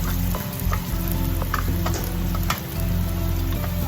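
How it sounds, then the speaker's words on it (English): Chopped fresh ginger root fries in a pan with a constant crackling sizzle, nearby and fairly loud, punctuated by a few light stirring scrapes. "I just give them a little stir until the aroma comes out."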